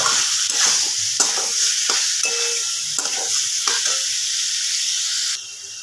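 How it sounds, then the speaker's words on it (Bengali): Soya chunks tossed with spices in a hot pan, a loud continuous sizzle with repeated scraping strokes of a spatula, close by and without talk, the frying noise dropping slightly at the end. "আমি সয়াবিনগুলো মশলার সাথেই কষে নেব, খুব ভালো করে কষে নেব"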